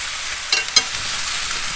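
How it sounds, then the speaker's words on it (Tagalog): Chicken pieces searing skin-side down in a hot pan with ginger, giving a steady close frying hiss broken by a few sharp pops and spatters. "Iprito na natin. Seal na natin ang kanyang skin."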